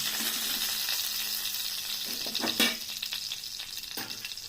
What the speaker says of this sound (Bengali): ওই 2 পিস ভেজে নিলে আমার মাছ ভাজা কমপ্লিট হয়ে যাবে